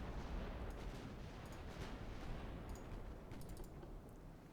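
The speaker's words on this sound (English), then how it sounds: "The battlecruiser still firing." A battlecruiser fires its naval guns in Ultimate Admiral: Dreadnoughts, heard as a low, dense, continuous rumble of distant heavy fire with some faint clicks on top, quiet overall and without talk.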